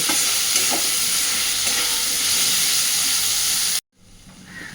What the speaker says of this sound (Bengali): এইবার এই সব কিছুকে একসাথে একটু ভেজে নেব।